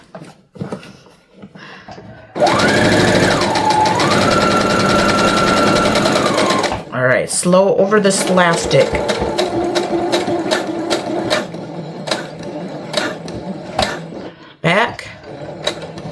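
Sewing machine stitches a fabric shopping bag holder, its needle drive whirring loudly and steadily for a few seconds, then running in shorter, choppier bursts with clicks while someone talks briefly nearby.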